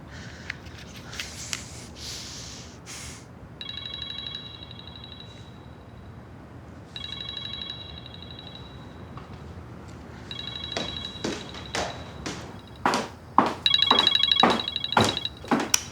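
A telephone rings indoors in a repeated electronic trill, four bursts spaced a few seconds apart with quiet gaps between, joined toward the end by a run of sharp clicks and taps.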